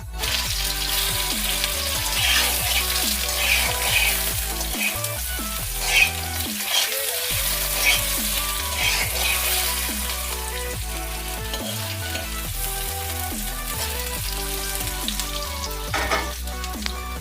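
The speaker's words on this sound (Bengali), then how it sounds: "আলুটা কড়াই দিয়ে দিচ্ছি।" Potatoes frying in a kadai with panch phoron, with eggplant and shrimp also in the dish, giving a continuous loud oil sizzle with stirring scrapes and brief pauses in the frying.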